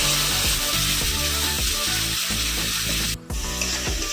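Loud, steady sizzling of masala frying in a pan for a prawn malai curry, with repeated stirring scrapes and a brief pause where water rinsed from a mixer jar goes in, then the frying hiss resumes.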